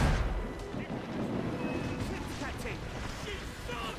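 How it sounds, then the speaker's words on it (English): Ship cannons firing in a naval battle in Assassin's Creed Rogue, heavy booms over a constant wash of sea and battle noise, with game voices shouting throughout. "Man the cannons!"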